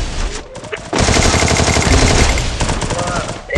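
Rapid automatic gunfire from a ranked-match video game shooter, loud bursts of rattling shots filling most of the clip after a brief quieter start, with faint talk underneath.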